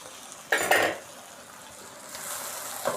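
Capsicum tossed into a pan of frying vegetables for macaroni gives a short burst of clattering and sizzling near the middle, then settles to a soft, steady fry with a faint late clink.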